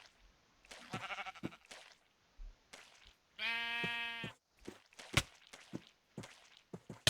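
A Minecraft sheep gives a clear, loud bleat in a quiet game scene, preceded and followed by scattered short clicks and footstep-like taps.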